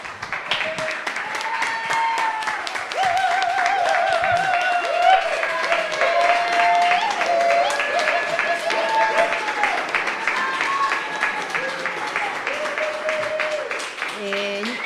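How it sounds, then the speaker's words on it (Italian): An audience claps steadily at an award ceremony, the Premio Ostana prizegiving, a sustained wash of applause lasting throughout with tonal music or voices running over it. "li accogliamo con un applauso"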